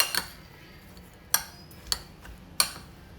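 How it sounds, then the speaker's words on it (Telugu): Spoon clinks against a bowl while spiced batter with coriander powder and a little oil is mixed, four sharp taps spaced unevenly over quiet room tone. "ఇప్పుడు మొత్తం మిక్స్ చేస్తున్నాను అనమాట"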